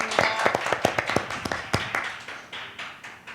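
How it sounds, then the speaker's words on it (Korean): Audience clapping at a budget policy symposium panel session, a scattering of sharp claps with uneven rhythm that thins out and fades toward the end; a voice is faintly audible beneath. "박수 좀 쳐주시죠."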